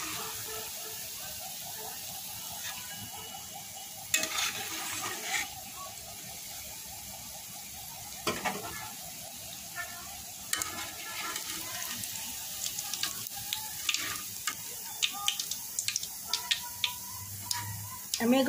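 Semolina gulab jamun balls frying in hot oil in a pan, a soft continuous bubbling hiss with scattered crackles and occasional clinks of a utensil, moderately close.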